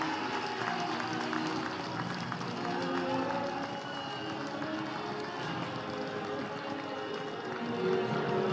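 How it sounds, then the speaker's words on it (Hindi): A crowd at a highway inauguration ceremony in Siliguri with Nitin Gadkari claps in dense, sustained applause for about eight seconds. "एक बार जोरदार तालियां हो जाए।"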